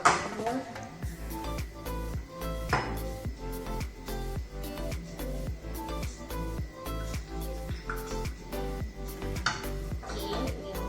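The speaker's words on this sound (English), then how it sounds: "Let's put it to the serving bowl." A creamy three-ingredient dessert is scraped and spooned into a serving bowl, giving repeated clinks and scrapes of a utensil against dishware, close and fairly loud, over a steady background hum.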